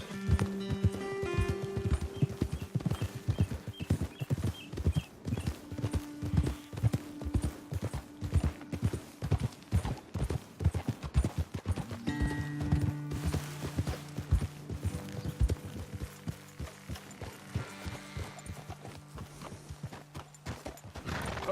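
Horses walking in the video game Red Dead Redemption 2, their hooves clip-clopping in a steady, fairly close rhythm that continues throughout, with a brief whinny among the hoofbeats and low ambient outdoor sound.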